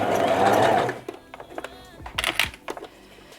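A home sewing machine runs briefly on pyjama fabric, a loud whirring burst for about a second, followed by clicks and handling noises as the work is adjusted.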